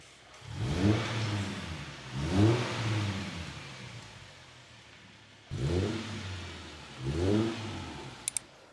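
A Nissan 370Z Nismo with an Invidia Gemini exhaust revs hard four times, each deep burst swelling and then falling back toward a low rumble, close and loud with no voices.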